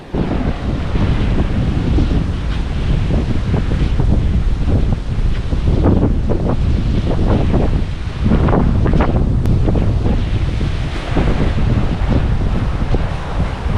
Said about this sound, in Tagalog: lakas ng alon dito grabe oh